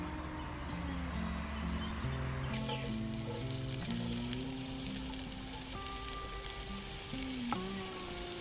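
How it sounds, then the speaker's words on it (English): Onions and wild chanterelle mushrooms frying in olive oil in a kitchen, giving a steady, close crackling sizzle with soft spattering throughout and a faint tonal hum underneath. "We're gonna do the onions and the chanterelles together because I want to give the chanterelles a nice good sear as well"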